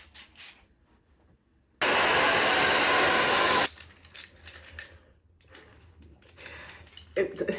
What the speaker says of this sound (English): So I'm gonna rough dry my hair first and then I'm gonna style.